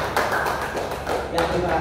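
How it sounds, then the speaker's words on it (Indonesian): Classroom of students clapping for a classmate during a magnet lesson, brief close patter of hands in short bursts with background chatter. "Beri tepuk tangan dulu."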